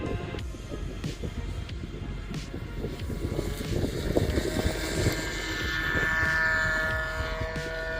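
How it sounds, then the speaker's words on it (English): A Direct Connection Hawker Sea Fury 60 model airplane flies over an empty airfield on its maiden flight, its propeller engine droning at a distance and swelling louder, with wind buffeting the microphone. "This is the maiden flight of the direct connection Hawker Seafury."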